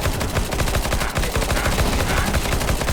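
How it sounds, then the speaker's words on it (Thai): Rapid automatic gunfire in the video game Counter Strike, loud, dense bursts of shots running continuously for a few seconds with no voices. "เมื่อกี้มีคนยิง"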